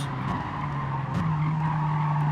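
Race car in Gran Turismo Sport braking very late, tires skidding and squealing in a loud sustained screech over the engine drone, with a brief pitch shift midway.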